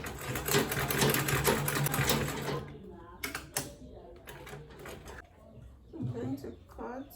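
A sewing machine stitches a quilted tote bag with boxed corners, running in a steady loud burst for the first couple of seconds, then stopping; afterward a voice talks over handling and rustling.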